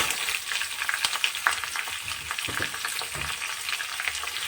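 Onions, ginger, garlic, green chili, tomato and cashews fry in hot oil for a dhaba-style paneer makhni, giving a steady, close crackling sizzle with occasional louder pops and stirring scrapes, no voices.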